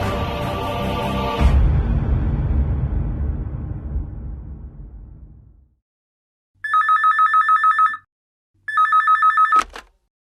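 A telephone rings in a room, two clear repeated electronic bursts after a fading crash of noise, each ring a rapid trilling pattern, loud and alone with no talk.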